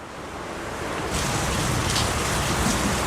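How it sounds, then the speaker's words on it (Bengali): Heavy rain pours down in a dense, steady hiss that grows slightly louder after a moment, with no voices. "তো এখন যেভাবে বৃষ্টি হচ্ছে, এই বৃষ্টি আসলে থেমে যাওয়ার মতন কোনো বৃষ্টি নয়"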